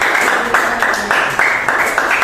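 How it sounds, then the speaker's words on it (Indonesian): A classroom group of students gets applause at the end of their presentation, a short burst of steady, fairly loud clapping from several people close by. "berikan tepuk tangan kepada kelompok"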